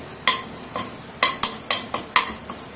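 Lightly sautéing ginger for stingray fish curry in a pan, with about six crisp, evenly spaced scraping strokes of a spoon against the metal over a faint sizzle, close and fairly clear with no talking.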